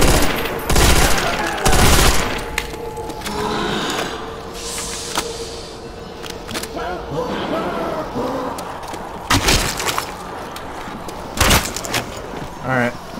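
Rapid bursts of dual machine-gun fire in Call of Duty: World at War Zombies, loud and repeated in clusters with sharp impacts, mixed with game noise while a person talks over much of it.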